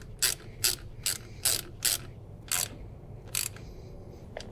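Ratchet wrench tightening the terminal bolts on a battery for a John Deere machine, seven short bursts of clicking at an uneven pace, close up and clear with no talking.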